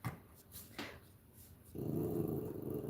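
A small dog growls low and steadily at close range, the rumble building and holding after a few soft rustling sounds, with no talking.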